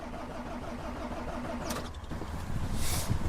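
A heavy truck's engine cranks over as the ignition key is turned with pliers, a steady low churning that grows rougher and louder toward the end without the engine catching.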